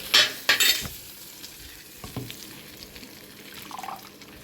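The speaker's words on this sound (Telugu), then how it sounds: "ఈ లోపల ఇంకా కొంచెం ఫ్రై అవుతుంది చూడండి టమాటం అటు ఇటు కలిపేసరికి ఇంకా రెడ్ కలర్కి వచ్చినాయి" Tomatoes frying in a pan for traditional punti kura pachadi, with a soft sizzle beneath loud scraping and clattering of a utensil stirring against the pan early on, then quieter stirring.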